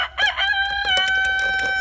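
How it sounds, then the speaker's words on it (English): A rooster crows loudly and close by, one long drawn-out cock-a-doodle-doo with a clear ringing tone, sounding alone with no talk. "Yes, guy, we know where you're there, Mr. Cockerel."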